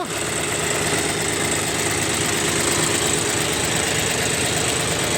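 A tractor engine idles steadily close by at a farm where manure is loaded, a constant low rumble with a faint knocking vibration and no talking.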